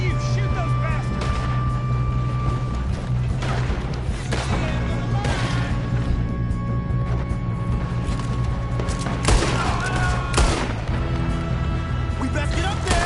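Gunfire in Red Dead Redemption 2 during a shootout: several sharp shots and cracks go off over a steady low rumble of game sound, with voices shouting among them.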